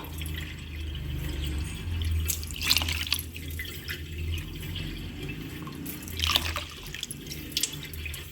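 Water trickles and drips steadily into a cooker holding rice and lentils, a soft continuous pouring with a few louder splashes, no voices.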